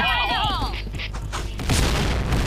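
A grenade explodes in the online shooter Point Blank, a deep booming blast with rumbling debris, following a brief whistling sweep and loud in the foreground.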